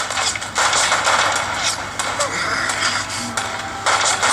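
Gunfire in a shooter game played on an LG G3 phone, with short bursts of rapid shots separated by brief pauses and a muffled tinny quality, under a speaking voice.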